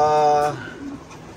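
Racing pigeons coo close by, a soft rolling call at the start fading into quieter bird sounds and faint background noise.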